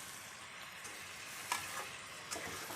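Marinated chicken frying in oil with bay leaf, cloves, cinnamon and cardamom, a faint steady sizzle with a couple of soft stirring clicks.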